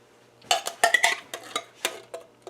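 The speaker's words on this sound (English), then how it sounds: "And finally, I am going to add some diced tomatoes." Canned diced tomatoes tip into a pan of broccoli, cauliflower, peppers, onions and mushrooms, giving a string of close clinks, taps and wet plops over about two seconds.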